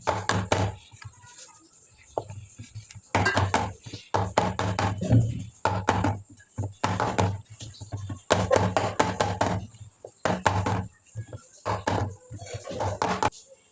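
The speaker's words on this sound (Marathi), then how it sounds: "आता ही मिश्रण टॅप करून घेऊ व्यवस्थित म्हणजे आपले जे एअर बबल्स असतात ते जातील निघून" A tin of chocolate cake batter is tapped repeatedly against a surface to knock out air bubbles, giving bursts of sharp, close knocks in quick irregular runs with short pauses between them.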